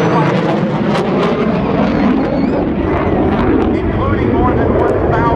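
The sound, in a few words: F/A-18 Hornet jet flying at a demonstration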